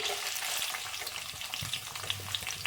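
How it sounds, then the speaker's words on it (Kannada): Chopped onion, a bay leaf and kasuri methi frying in hot oil for a mushroom egg curry, a loud steady sizzle with soft stirring scrapes, close and continuous with no talk. "ಈಗ ಆಯಿಲ್ ಸ್ವಲ್ಪ ಬಿಸಿ ಆದ ತಕ್ಷಣ ಒಂದು ಪಲಾವ್ ಎಲೆ, ಹಾಗೆ ಸ್ವಲ್ಪ ಕಸೂರಿ ಮೇಥಿ, ಹಾಗೆ ಚಿಕ್ಕದಾಗಿ ಕಟ್ ಮಾಡ್ಕೊಂಡಿರುವಂತಹ ಈರುಳ್ಳಿ"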